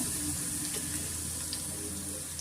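Vegetables fry in a pan while bread pakoda is being cooked, a steady hiss that runs unbroken and fairly close, with no talking over it.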